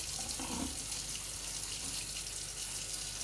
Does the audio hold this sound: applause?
no